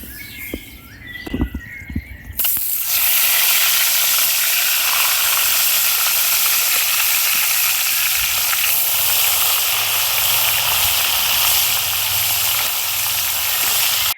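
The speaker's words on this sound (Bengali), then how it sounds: "তেল গরম হয়ে গেছে তেলের মধ্যে একে একে মাছগুলোকে দিয়ে ভেজে নেব" Fish, seasoned with salt and turmeric, dropped into hot oil in a village kitchen, bursting into a loud, steady hiss and crackle that runs continuously after a few brief handling knocks at the start.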